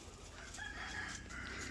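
Rhode Island Red hens and a rooster kept together in a coop cluck steadily, and a crow rises partway through, all at a fairly low, even level with no talking.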